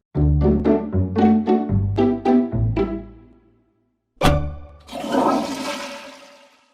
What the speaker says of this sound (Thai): ปิดฝาก่อนกดชักโครกทุกครั้ง กันเชื้อโรคฟุ้งกระจาย